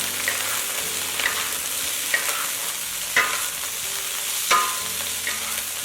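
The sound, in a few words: stir-frying squid with garlic scapes in a wok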